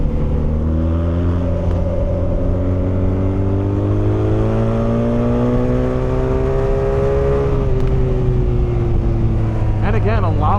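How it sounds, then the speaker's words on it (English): A 2026 BMW R12 G/S motorcycle engine revs steadily while riding on the road, a loud, continuous drone that climbs slowly in pitch through the rev range, then settles, with wind noise throughout. "a lot more rev range than you might expect when you kind of feel the punchiness of this motor"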